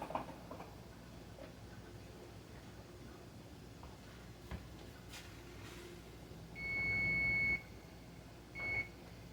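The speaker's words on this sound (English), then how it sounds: "my timer is about to go off" A kitchen timer goes off while cranberry sauce is home-canned on a stovetop: faint ticking, then a loud, steady electronic beep lasting about a second, followed by a shorter beep, over low room hiss.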